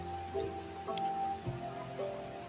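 Rain falls with a soft, steady patter and occasional louder drips, quiet and even throughout, with faint tonal hum underneath and no voices.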